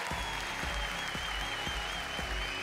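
A studio audience at a Venezuelan TV talent show, Talento de Corazón, applauds to welcome a singer onstage, a steady, dense wash of clapping that holds evenly for the whole stretch.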